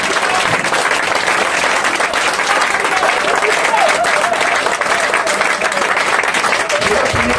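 A church congregation applauds and acclaims loudly and continuously, a thick sustained roar of clapping with voices rising and cheering through it.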